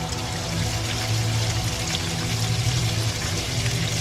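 Water flows continuously nearby in a dark building, a steady rushing wash with a low hum beneath it.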